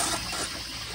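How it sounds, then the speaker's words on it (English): Water trickles steadily into the bowl of a 1992 Kohler Kingston Waterguard toilet, a soft continuous hiss and splash close by, with no voices. "Let water trickle in."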